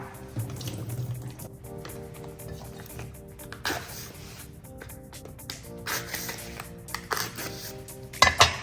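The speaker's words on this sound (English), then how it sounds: "So let's drain the water out." Water draining off a block of tofu into a sink, a series of close drips and liquid trickles with a few splashy bursts, heard alone without talk.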